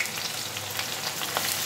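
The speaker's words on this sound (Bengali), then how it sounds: "এবার পেঁয়াজ দেওয়া হবে গরম তেলে" Onions crackle and sizzle in hot oil seasoned with melted sugar, bay leaf and whole garam masala for a Bengali mutton dish, a close, continuous frying hiss with no talking.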